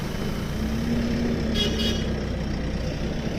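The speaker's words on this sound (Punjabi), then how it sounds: "ਹਾਰਨ ਵੱਜ ਗਿਆ" A vehicle horn sounds in a short double toot over a constant rumble of engine and road noise at a work site where a tractor with a trolley is expected.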